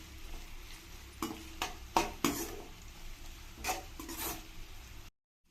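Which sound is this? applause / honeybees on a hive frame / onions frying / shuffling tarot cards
onions frying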